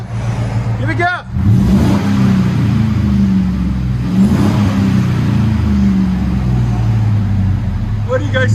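A Chevy Silverado 5.3L V8 with a modified exhaust, heard from inside the cab, holds a steady deep engine rumble and rises briefly under throttle. Voices talk over it.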